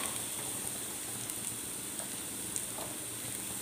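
Chopped ginger, onion, carrot, capsicum and beans sautéing for Schezwan fried rice give a steady, fairly quiet sizzle, with a few faint clicks of a utensil scattered through it and no talking.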